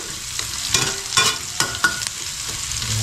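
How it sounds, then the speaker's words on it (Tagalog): Onion and garlic sizzle in a frying pan while a utensil scrapes and stirs through them in several quick strokes, close and clear over the steady frying hiss. "Haluin muna natin yung ating sibuyas sa bawang."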